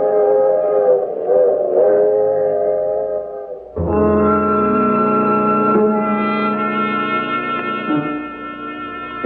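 A loud train horn blares in long sustained tones, rising sharply partway through and holding as a rail vehicle passes close by.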